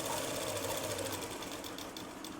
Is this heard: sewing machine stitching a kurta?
yes